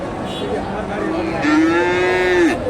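A Friesian heifer at a busy cattle market lets out a single long, loud moo that rises and holds steady for about a second before cutting off, over a murmur of crowd noise.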